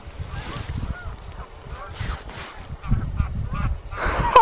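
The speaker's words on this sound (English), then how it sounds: "There's still geese, and we got geese sitting up here." A flock of geese honking continuously nearby, overlapping calls forming a noisy, busy chorus that grows slightly louder toward the end.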